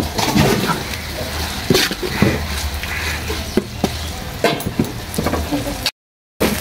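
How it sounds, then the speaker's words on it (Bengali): Garlic and ginger paste stir-fried with onions in a pan for chicken kosha, a steady sizzle broken by repeated scrapes and clanks of a spoon, close up, ending in a brief dropout. "রসুন আর আদা দিয়ে ভালো করে কষিয়ে নেব"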